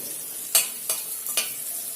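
Cumin seeds fry alone in a pan with a thin, crackling sizzle, broken by three or four sharp stirring scrapes.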